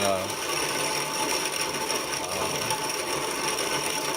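A steady, dense grinding rasp of barley being crushed in a hand-cranked barley crusher, grain falling into a sack, continuous and fairly close, with no pauses and no talking.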